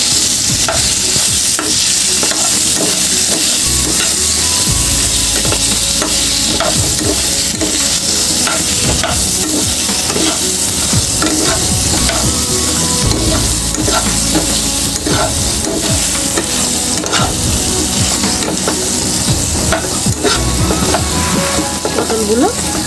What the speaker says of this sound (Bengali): এবার এটাকে আমি একটু ভালো করে ফ্রাই করে নেব